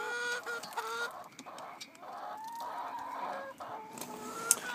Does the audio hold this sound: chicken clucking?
yes